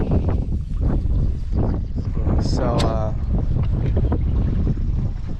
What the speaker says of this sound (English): it's relatively windy today too, as you can see